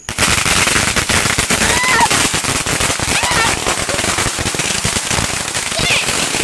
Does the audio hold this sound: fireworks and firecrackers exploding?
yes